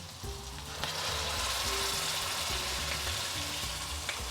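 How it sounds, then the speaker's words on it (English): Curry sauce for a tofu tikka rezala sizzles and fries steadily in the pan as tomato paste goes in, a continuous close crackle with faint scraping stirs and no talking. "now we're going to add the tomato paste"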